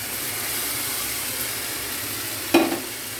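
Ingredients with chilli, onion and vegetables poured into a hot pan, a steady hissing sizzle then a sudden louder splash and burst of frying near the end, close up.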